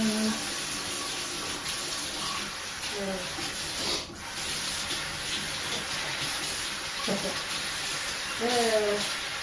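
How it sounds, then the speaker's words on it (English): Tap water runs steadily as a knife is washed during salad lunch prep, with a close, hissing flow, a few light clinks and a voice talking faintly beneath it. "let me just sort of wash it and wash the knife,"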